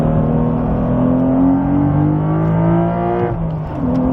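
Porsche 992 911 Carrera T with a seven-speed manual, its flat-six revving hard toward high RPM with rising induction noise, loud and close from inside the car, pitch climbing steadily before a brief dip and recovery.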